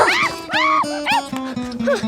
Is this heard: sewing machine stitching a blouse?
no